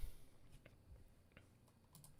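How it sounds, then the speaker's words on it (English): Computer keyboard typing at a desk, a handful of scattered key clicks and taps with pauses between them, close but quiet against a low room hum. "I am having the hardest time typing right now."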